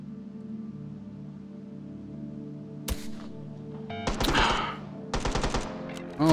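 Pistol fire in Hot Dogs, Horseshoes & Hand Grenades, a single sharp shot followed by two quick bursts of rapid gunfire over a low background hum.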